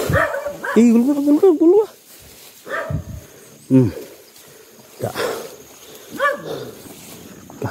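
A dog barks several times in short bursts. Loud voices talk and shout over the barking throughout.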